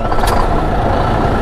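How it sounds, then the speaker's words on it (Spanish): A used semi-truck tractor's diesel engine, a Kenworth or International, idles steadily and loud, with a continuous low rumble close by and no talking. "¿Quieren escuchar el motor para que vean que sí jala?"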